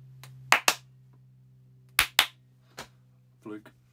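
Two quick double hand claps, about a second and a half apart, sound sharp and close as they work a clap-activated switch, over a steady low electrical hum, followed by a few softer knocks and rustles.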